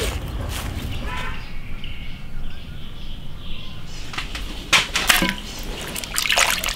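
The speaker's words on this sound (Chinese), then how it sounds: "先把这个羊腿给它洗一下" Tap water runs steadily over a small leg of lamb as it is rinsed in an outdoor kitchen, with a continuous splashing rush and a few sharper spatters near the end.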